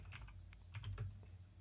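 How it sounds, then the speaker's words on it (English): Quiet typing on a computer keyboard, a quick irregular run of soft key clicks up close, with no voices. "So if you hear me typing"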